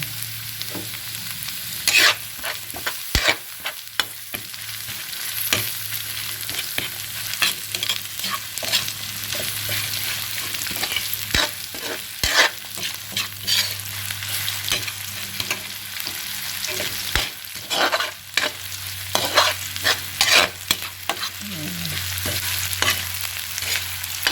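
Red onion sautéing in a pan of oil while a tinapa dish is being made, with a steady sizzle and frequent close scrapes and clacks of a spatula stirring, no voices.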